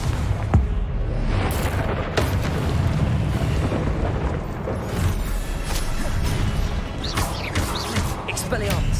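A Confringo spell in Hogwarts Legacy bursts into a loud, rumbling explosion amid continuous heavy battle noise, booms and crashes layered over one another while a voice speaks over the action.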